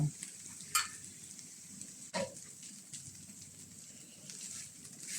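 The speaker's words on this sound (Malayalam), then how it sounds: "അപ്പോൾ ഇനി നിർത്താതെ ഇളക്കി കൊടുക്കണേ" A spatula scrapes and stirs chicken mince and green peas in a frying pan, with a faint low sizzle under a few sharp clinks and scrapes against the metal, quiet and close.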